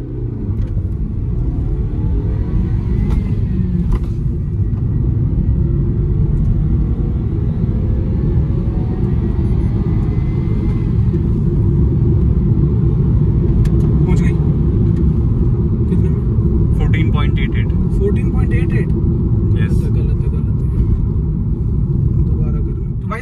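A 2021 Toyota Glanza running a 0 to 100 acceleration test, launched from 2000 rpm, fills the cabin with a loud, continuous engine drone and road rumble that holds steady for over twenty seconds.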